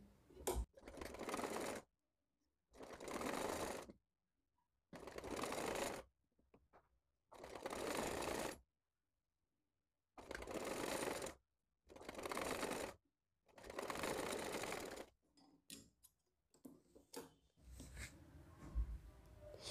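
A sewing machine stitches folded fabric piping on a girl's yellow dress, running in seven close, loud bursts of rapid whirring separated by short pauses, followed by softer handling clicks and rustles.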